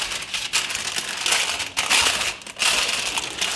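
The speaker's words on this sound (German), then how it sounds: "Das Papier ein bisschen zur Seite falten." Baking paper crinkling and rustling loudly as it is folded around bread dough sitting in a pot, in several bursts with short pauses.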